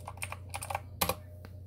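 A computer keyboard is typed on in a short burst, roughly a dozen close, crisp key clicks in quick uneven succession over a low steady hum, with no speech.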